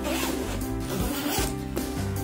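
Zippers on a fabric suitcase are run back and forth, producing close, loud, continuous rasping zips with brief changes in direction, heard alone without speech.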